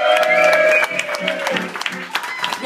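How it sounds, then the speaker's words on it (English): Applause and cheering from the audience at a live blues concert in a small bar, rising under sustained band tones and a voice, with scattered claps and shouts continuing after the music thins. "everybody a big round of applause"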